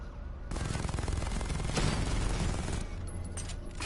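Robots firing guns in Batman: Arkham Knight, a dense and loud sustained barrage of rapid shots with no voices over it.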